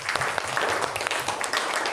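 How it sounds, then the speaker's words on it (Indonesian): A classroom of students claps for a student group after its presentation, steady dense applause filling the full stretch, moderately loud and close. "tepuk tangan untuk kelompok 4"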